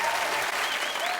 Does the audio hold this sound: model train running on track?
no